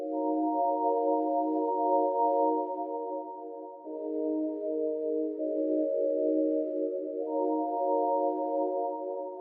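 A sustained synthesized chord drenched in Valhalla reverb as a sustain effect, holding steady and shifting pitch a few times, smooth and moderately quiet with no voices.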